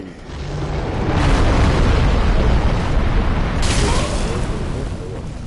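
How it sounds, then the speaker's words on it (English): Dragon fire breath attack in Dark Souls 3, a loud, sustained roaring blast of rumbling, crackling noise that swells and holds for several seconds with a second surge midway. "fire breath"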